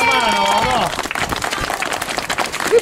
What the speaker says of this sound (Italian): Un applauso ai maestri qua che ci hanno dato una mano